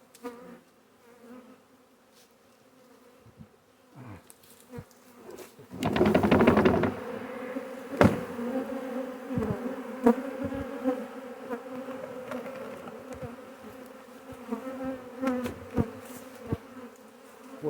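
A honey bee swarm buzzes steadily around a bait trap outdoors, a dense insect drone that surges loudly for a moment midway and then settles into a continuous hum with scattered nearby bees passing close.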